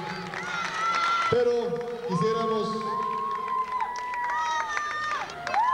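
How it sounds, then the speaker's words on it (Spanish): Audience at a 1998 beauty pageant in Tehuitzingo cheers and claps steadily, with shouts and whoops rising over the crowd noise while a voice speaks briefly. "Un aplauso para ella que salió electa esta noche."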